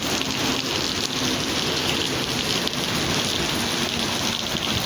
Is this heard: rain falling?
yes